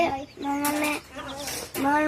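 Young chicks, bought two days earlier, cheep close by in a series of high, sustained peeping calls with short breaks between them, fairly loud.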